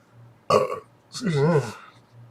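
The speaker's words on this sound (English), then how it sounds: "Sorry, beer's giving me a little bit of the burps." A man burps after drinking beer, a loud close belch followed by a longer, drawn-out rumbling burp, with nothing else in between.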